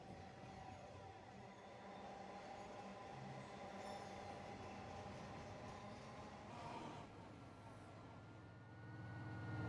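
In the Train Simulator Classic game, a train on the North Kent line runs at about 30 mph, giving a steady low rumbling drone with a slight swell near the end and no voices.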